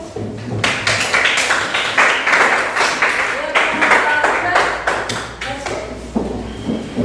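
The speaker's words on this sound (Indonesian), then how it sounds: "Tepuk tangan dulu." Audience applause after a classroom presentation, uneven sharp claps from a small group close by, spread out with irregular pulses over several seconds, with some voices mixed in.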